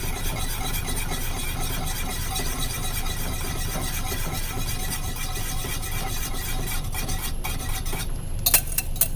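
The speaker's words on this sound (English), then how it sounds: "Now I'm going to whisk that back in slowly to my cream" Egg mixture being whisked slowly back into cream for a vanilla cream pie, a steady scraping and clinking of whisk against the bowl throughout, close and continuous, with a few sharper clicks near the end.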